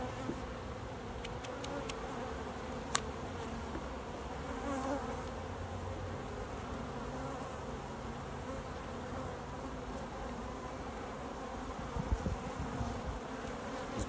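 Honey bees buzz steadily in an open hive, a close, continuous drone with a few brief clicks and knocks, no talking.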